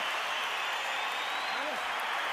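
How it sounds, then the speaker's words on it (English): Crowd at the Oscar De La Hoya vs. Floyd Mayweather boxing match roars and applauds in a dense, unbroken wash of noise, loud and continuous throughout. "Crowd tries to root Oscar into position to take advantage, but it was too late"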